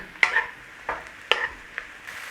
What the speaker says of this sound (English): In there, your mushrooms, and a nice little cook on those mushrooms.